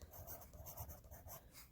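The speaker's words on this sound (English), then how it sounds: "your pencil is moving up and down in straight lines" Pencil making linear shading strokes on paper, moving up and down in straight lines; quiet, close scratchy rubbing in a steady back-and-forth rhythm of repeated strokes, with no voices.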